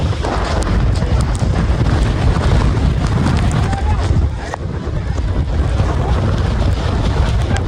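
Strong, steady wind on Brahmagiri hilltop roars and buffets the microphone throughout, a loud low rumble with gusty surges and no pauses.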